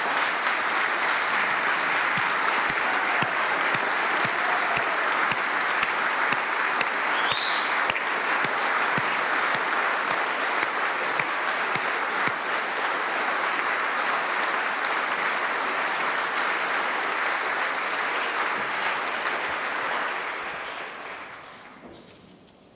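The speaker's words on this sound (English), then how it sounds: "Please give these educators and educators all across Kansas a huge" Sustained, loud applause from a large audience honouring Kansas educators at a governor's state address in a legislative chamber, even dense clapping for about twenty seconds before tapering off quickly.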